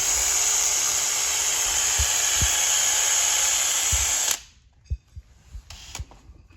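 A power tool slotting a hole in a jet ski hull for a Kawasaki 650SX hull extension whines loudly and steadily for about four seconds, then cuts off, leaving faint knocks and handling noises.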